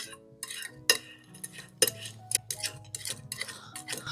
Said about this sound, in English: I'm gonna take a spoon and scrape down the sides of my bowl